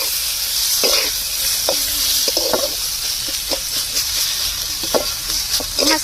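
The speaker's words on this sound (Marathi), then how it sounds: "मस्त मसाले आपण शिजवून घेऊ थोडेसे" Coriander powder and garam masala stirred and frying in a pan, with a constant bright sizzle broken by repeated scraping clicks of the stirring spoon.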